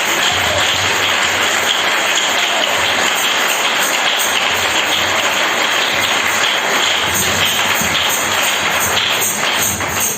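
A church congregation bursts into sustained, dense applause and cheering, loud and continuous throughout, filling the room without any single voice standing out.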